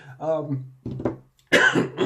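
A person coughs and clears their throat a few times in short, close bursts, with brief pauses between.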